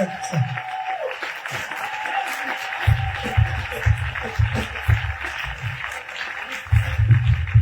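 A church congregation applauds in acclamation of Jesus, with sustained crowd clapping running throughout and deep rhythmic thumps from music or drums underneath.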